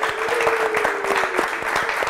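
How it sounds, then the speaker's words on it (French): A studio audience claps steadily at a televised talk show, a dense, even wash of applause that holds at full strength from start to finish without any voices. "Applaudissez pour vous."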